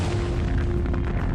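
Explosion sound effect depicting the Big Bang, a dense roaring boom that holds loud and steady throughout, with no voices.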